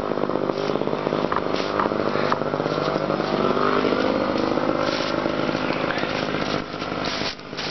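A chainsaw running with its air filter removed drones steadily at high revs after cutting firewood in freezing cold, a loud continuous buzz that dips briefly near the end.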